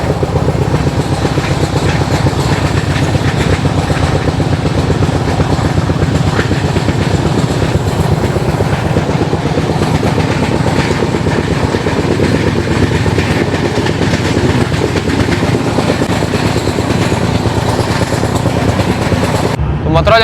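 The Rajdhani Express runs through Mathura Junction on the platform loop line, heard from on board as a continuous, loud rumble of wheels and carriage noise with rhythmic rail clatter throughout.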